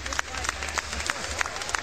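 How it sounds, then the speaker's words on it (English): Audience applause after a grappling match, a short burst of scattered clapping from a modest crowd at medium distance, with voices talking over it. "Big round of applause."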